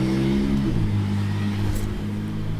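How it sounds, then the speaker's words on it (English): A car engine droning steadily in the background, its tone shifting downward as the vehicle drives past, continuous and moderately loud. "There's driving in the background, which is perfect timing."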